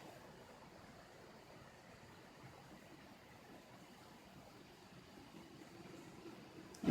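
Soft, steady rushing of a flowing creek, faint and continuous, with no voices.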